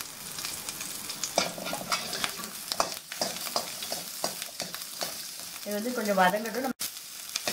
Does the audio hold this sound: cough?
no